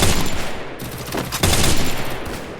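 FAMAS assault rifle fire in the mobile shooter Free Fire, a dense rapid burst of gunshots running nearly continuously, loud and close, with a brief dip before the shooting resumes.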